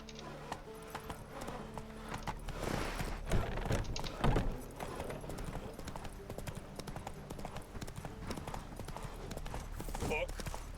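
Roach the horse gallops in The Witcher 3 with steady clip-clop hoofbeats at moderate loudness, mixed with game ambience and a voice talking over it.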